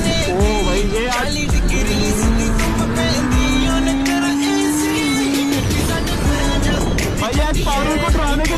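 Engines of superbikes racing past at speed on a road, with a rising, sustained engine tone under loud, busy traffic and wind noise, and some voices in the background.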